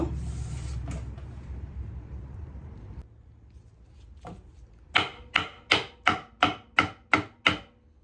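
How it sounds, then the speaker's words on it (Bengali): A knife chops ridge gourd finely on a board: after some background rumble, a few scattered cuts lead into a steady run of about eight crisp, evenly spaced chops, close and fairly loud. "এখন এই ঝিঙ্গাগুলো কুচি কুচি করে কেটে আমি ছোট মাছ দিয়ে রান্না করব"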